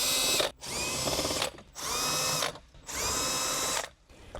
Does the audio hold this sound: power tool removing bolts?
yes